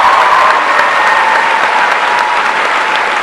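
A school moving-up assembly crowd gives sustained applause, a loud, even roar of many hands clapping that holds steady throughout and fills the hall.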